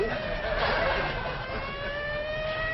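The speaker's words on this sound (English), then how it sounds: "Them sirens! Somebody's calling the law." Several steady wailing tones hold across the clip, sounding like sirens at moderate distance over a noisy background.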